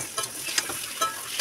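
Green chillies dropped into a hot frying pan of curry with turmeric, giving a bright, hissing sizzle with short stirring scrapes and pops repeating every half second or so.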